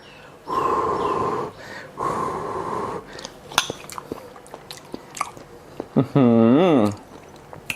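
Someone eats a steamed herbal chicken wing with close mouth sounds: blowing on it first, then biting and chewing with smacks and breaths, and a brief voiced hum near the end.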